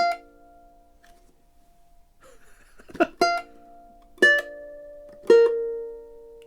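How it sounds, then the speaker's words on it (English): Custom Pepe Romero "Steck" ukulele: a soft sustained tone, then four plucked notes and chords at a steady pace, each ringing bright and close with long, shimmering overtones that slowly decay. "It's like one of the best ukuleles to feature this cool phenomena with the overtones of the instrument."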